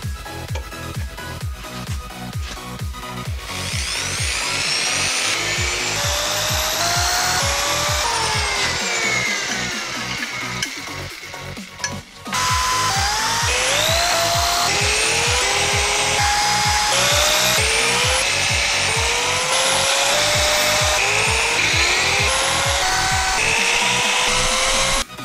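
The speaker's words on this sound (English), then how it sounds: "Now just drill out your holes." A power drill bores holes into a round wooden mini kanabo bat, with whining motor pitch rising and falling through repeated drilling passes, close and loud with a short break midway.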